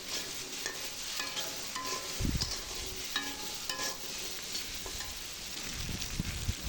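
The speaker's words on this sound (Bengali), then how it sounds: "লবণ দিয়ে ভালোভাবে নেড়ে চেড়ে এখানে দিয়ে দেবো একটু সামান্য হলুদ" Taro pieces being stirred with salt and a little turmeric in a hot pan, with steady oil sizzle, a few louder scrapes and clatters of the spoon against the pan, and no talk.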